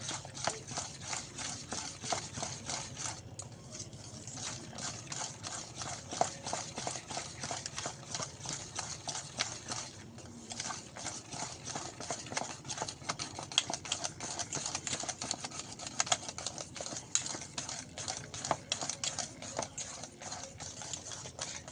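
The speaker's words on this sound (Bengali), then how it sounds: "আমি একটা হ্যান্ড উইচ নিয়ে নিয়েছি, ভালো করে একটু ফেটে নেব।" Batter beaten briskly with a hand whisk in a bowl, a fast steady clicking and tapping rhythm that runs on without pause, close and fairly quiet, with no voice over it.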